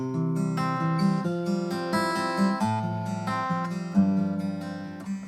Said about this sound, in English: So this is the sound of the piezo pickup